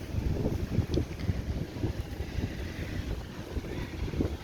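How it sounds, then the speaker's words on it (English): Strong wind at a Florida beach buffeting the microphone, a constant rough low roar with gusty bursts, close and unbroken, no talk. "Because it's really windy out there."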